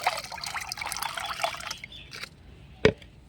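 Strained gram flour solution is poured into a spray mix, a close steady trickle and splash of liquid that thins out and ends with a single sharp knock.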